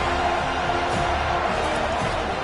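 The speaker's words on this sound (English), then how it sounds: "Big third down as the crowd gets behind this defense" Football stadium crowd at an FSU versus Miami game cheering on a big third down, a loud continuous roar with faint rhythmic swells underneath.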